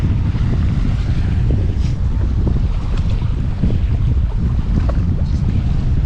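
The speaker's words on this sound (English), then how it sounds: "Quite a bit of chop and swell coming through here." Choppy sea and swell slap around a Yamaha EX Deluxe jetski out fishing in the Firth of Thames, heavy low wind buffeting and water rumble throughout, loud and continuous, no voices.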